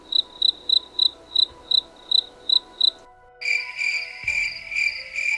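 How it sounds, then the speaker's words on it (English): Crickets chirp in a steady pulsing rhythm as a comedic silence sound effect, first a run of evenly spaced chirps, then a second, denser chorus of brighter chirps, loud and alone. "the crickets aren't even laughing"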